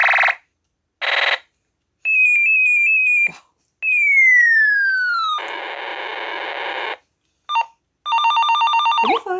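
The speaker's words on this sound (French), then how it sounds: "Téléphone! Allô?" Battery-powered toy telephone ringing with loud electronic rings in short bursts, then sliding and warbling beeps and tones separated by silences.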